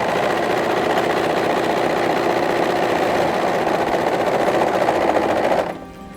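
A sewing machine stitches dungarees in a loud, steady, rapid mechanical rattle that runs unbroken, then stops abruptly near the end.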